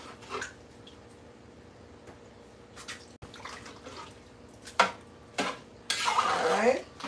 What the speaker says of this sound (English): So you have to stir it real good to make everything distribute.